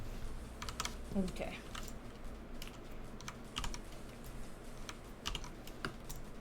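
Computer keyboard keys tapped in quick irregular bursts, close and fairly quiet, with a brief spoken word partway through.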